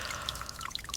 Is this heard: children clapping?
no